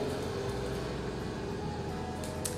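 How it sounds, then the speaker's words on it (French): A lawnmower running outside makes a faint, steady engine drone with a constant hum in the background, unbroken and distant. "Désolée pour le petit bruit de tondeuse dehors"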